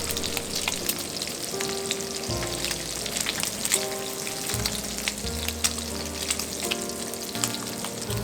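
Shrimp sizzle and crackle steadily in a hot pan, with the spatter continuous and fairly close.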